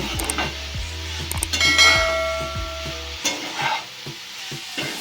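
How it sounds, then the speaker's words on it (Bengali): A utensil scrapes and clinks rhythmically against a frying pan amid sizzling oil while cooking prawns with greens, several strokes in quick succession before the stirring slows and quiets. "তেলটাকে নাড়াচাড়া করে মিশিয়ে নেব"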